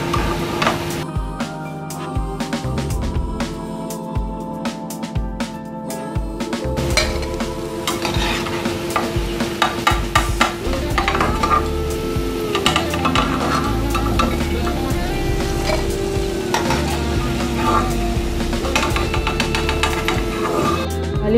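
Cauliflower egg 65 pieces fry and sizzle in a pan while being stirred, a steady crackling hiss with scraping stir sounds and some clinking, continuous throughout at moderate loudness with no talking.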